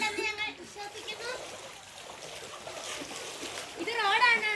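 Floodwater streams across a flooded road with a soft rushing, splashing wash, moderately close, while people talk over the moving water.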